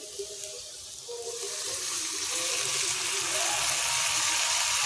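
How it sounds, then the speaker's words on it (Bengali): Water used to rinse ground spice paste is poured into a hot pan of frying onions and spices, a steady rushing splash building into a broad hiss and sizzle, close and loud, with a voice briefly heard at the start. "আর এই মশলা ধোয়ার জলটা দেব।"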